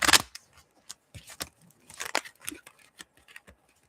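Tarot cards being shuffled by hand, with a sharp riffle burst at the start and then a run of brief papery flicks and taps close to the mic. No one speaks.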